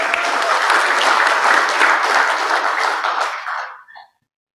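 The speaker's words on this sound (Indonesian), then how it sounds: "Sekali lagi tepuk tangan untuk Bang AM." A crowd at an Indonesian political party national meeting gives a loud, sustained round of applause that fades out quickly near the end, leaving a moment of silence.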